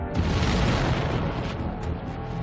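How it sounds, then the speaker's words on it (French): A meteoroid about half a football field across explodes in the atmosphere over the Siberian forest and tundra, heard as a huge, close, rolling boom that swells at once and rumbles on for a couple of seconds. "le souffle brûlant, engendré par l'explosion, s'est propagé à travers la toundra"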